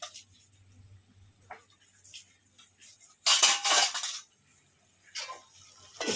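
A spoon stirs turmeric and chili powder together in a pot while preparing a Telugu cucumber and dried fish curry, giving soft scraping clinks in a quiet opening, then a louder burst of metal-on-pot mixing and a second short round.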